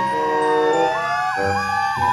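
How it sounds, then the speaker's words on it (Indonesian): A toy fire truck's electronic siren wails in steady rising and falling sweeps, loud and close, with no talking over it. "Yang ini namanya mobil pemadam kebakaran."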